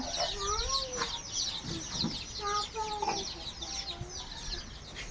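Chickens cluck and chatter in a neatly built multi-level coop, a close, busy flock of overlapping calls with a few louder squawks throughout.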